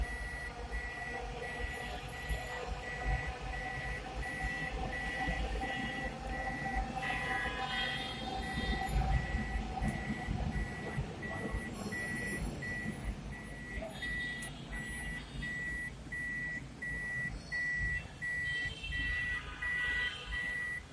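A vehicle in reverse gear in a parking area gives off a steady, evenly spaced electronic beep that repeats throughout over a low engine rumble, with faint background noise.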